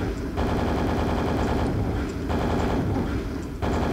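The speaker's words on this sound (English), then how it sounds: "I'm going to use the super nail gun on him." Rapid continuous nail gun fire in Quake, the super nail gun hammering away at a Shambler in a dense, loud stream with brief breaks, no talk.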